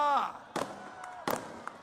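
Firecrackers go off at an election campaign rally in the Kalwa-Mumbra constituency: two sharp, loud bangs with crackling tails about a second apart, after a voice is heard briefly at the start.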